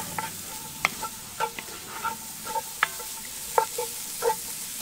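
Onions hitting a pan already holding curry and tomato paste at an outdoor camp cookout, with a string of sharp scraping and stirring clatters over a low sizzle, close and moderately loud.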